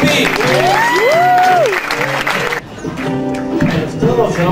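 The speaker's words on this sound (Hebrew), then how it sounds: "מחיאות כפיים לקובי!" A stand-up comedy audience applauds for comedian Kobi, a dense wash of clapping mixed with a loud voice and sung or drawn-out speech over it, fading slightly midway before continuing.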